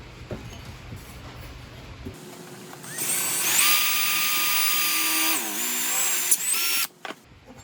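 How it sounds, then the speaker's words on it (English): A power drill spins up and whines steadily for several seconds, pitch dropping briefly under load as it bites into the metal frame of a Tonka toy truck, then stops. "So we'll go ahead and drill them now."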